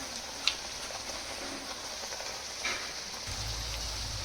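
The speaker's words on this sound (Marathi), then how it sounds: "आता पुरी टाकल्यानंतर चांगली तळून घ्यायची अशी फुलेपर्यंत" Spinach puri deep-frying in hot oil gives a steady, even crackle and sizzle throughout, with a brief sharper pop near the start and a low rumble joining toward the end.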